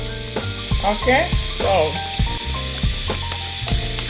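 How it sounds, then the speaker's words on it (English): Oil heating in a plain frying pan gives a steady sizzle and crackle throughout, close and fairly loud, with a brief spoken phrase near the start and other kitchen clatter mixed in. "This is my plain frying pan. I'm adding the oil to heat."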